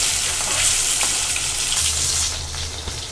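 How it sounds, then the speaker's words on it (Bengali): Pieces of rohu fish frying in hot oil, a loud close sizzle that runs steadily, with faint stirring knocks and no voices. "মাছ ভাজাগুলো শেষ, এখন আমি উঠিয়ে নিচ্ছি।"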